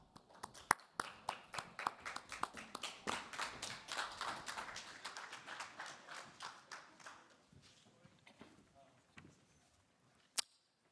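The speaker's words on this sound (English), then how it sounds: "A round of applause for them, please." Audience applause at an NFT.London 2022 panel welcoming four panelists to the stage, a moderate crowd clapping that swells then thins out over several seconds, ending with a few scattered claps.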